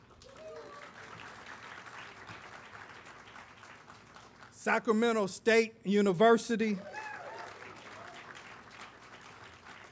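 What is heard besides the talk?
audience applause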